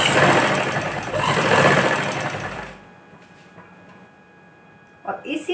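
A sewing machine stitching a suit runs in a steady whirring burst for about three seconds, then stops, leaving near silence and a faint clatter at the end.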